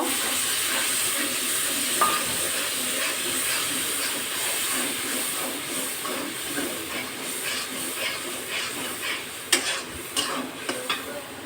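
A little water is splashed into a hot frying pan during cooking with banana, producing a loud, dense, continuous hiss and sizzle that holds steady, with a few sharp clicks near the end.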